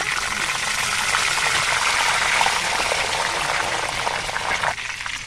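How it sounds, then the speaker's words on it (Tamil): Loud, steady crackling sizzle of hot oil deep-frying banana chips, a dense bubbling hiss that eases slightly near the end. "இந்த மாதிரி தண்ணி தெளித்து விட்ட பிறகு இந்த சலசலப்பெல்லாம் சுத்தமாக அடங்கி வரணும்."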